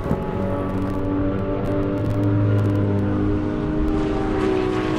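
A Lamborghini races down an airstrip at a drag event, its loud, sustained engine note droning with steady harmonic tones that rise slightly in pitch and hold close throughout.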